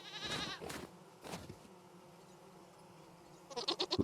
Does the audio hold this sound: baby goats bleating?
yes